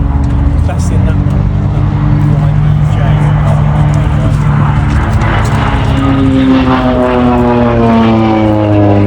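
An OV-10 Bronco twin-propeller aircraft flying at an airshow, its engines droning loud and close with shifting pitch as it passes, while an announcer talks over it.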